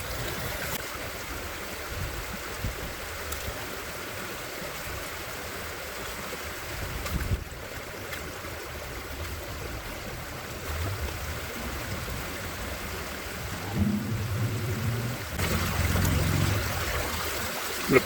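Turbulent water rushes steadily through a gold panning sluice set up on a tripod in suburban Denver, Colorado: a continuous close trickling wash that swells slightly louder toward the end, with no talking.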